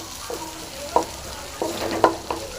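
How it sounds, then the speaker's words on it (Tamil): Onions crackling as they fry in hot oil, with a few sharp spoon clinks and scrapes at irregular intervals over a soft continuous sizzle, close by and without speech. "வெங்காயம் போட்டுடலாம் நல்லா பொறி வெங்காயம் நல்லா ஃப்ரை பண்ணிக்கலாம்"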